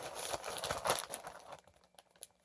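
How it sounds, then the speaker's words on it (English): A wig being packed into a plastic bag, giving close crinkling and rustling of plastic for about a second and a half, then quieter scattered crackles and a last sharp crinkle. "And once again, it goes into the plastic bag"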